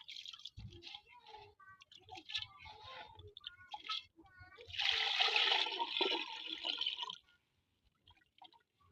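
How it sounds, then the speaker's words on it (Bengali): Water is poured into a cooking pot for a Shab-e-Barat dish of duck and beef meat, a loud gushing splash lasting a couple of seconds that then stops, after some soft kitchen clatter and faint voices. "এখন পানি দিয়ে দিব।"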